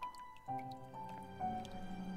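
Water drips from a shower tap in The Last Door video game, a few quiet, distinct plinks at irregular intervals over a faint low hum, with no talking.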